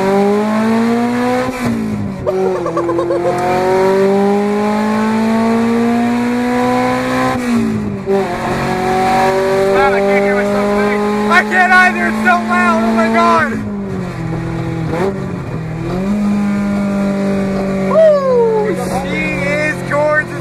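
A 1999 Honda Civic with an open header revving hard in first gear into VTEC, loud rising engine wails that climb, drop and climb again in several long pulls, with people talking over it.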